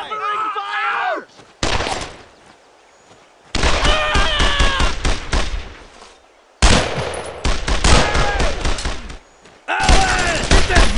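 Covering fire in a Brothers In Arms cutscene: long, loud machine-gun and rifle bursts hammer away in three sustained stretches, with shouting voices in the gaps between them.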